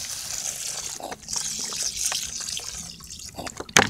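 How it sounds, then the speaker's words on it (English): Water pours into a pot of rice for cooking in a small camping setup, a close, moderate trickle and splash with a few sharper drips and a louder spill near the end. "So I'm just going to add the water."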